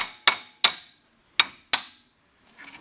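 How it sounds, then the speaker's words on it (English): Four sharp metallic hammer raps on the spindle of a 2011 Polaris Ranger front CV axle, struck in two quick pairs with short ringing decay, followed by a faint scrape. "if my hammer didn't walk off here, I'm just going to go ahead and give it a wrap"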